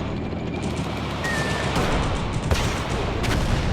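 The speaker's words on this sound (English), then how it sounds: "let's see if we can take out this PT-76 with the RPG-2" RPG-2 rockets fired at a PT-76 amphibious tank in the game Battlefield Vietnam, with a dense, continuous wash of battlefield gunfire and booms and a sharper blast near the middle.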